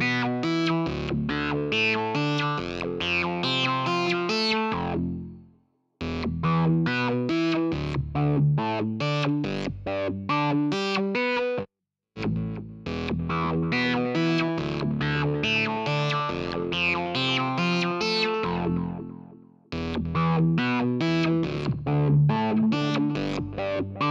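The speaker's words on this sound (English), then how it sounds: "try to duck and delay" Music is played through ducking and delay effects in Cubasis 3.8 on an iPad, giving a dense, distorted, echoing texture that keeps chopping out in short gaps, loud and continuous with no talking.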